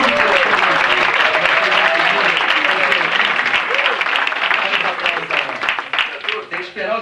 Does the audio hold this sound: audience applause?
yes